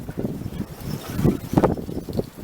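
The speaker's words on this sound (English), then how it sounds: "Yeah, it's windy out." Wind gusting outdoors, buffeting the microphone with low, uneven rumbling surges that rise and fall over a couple of seconds, close and moderately loud.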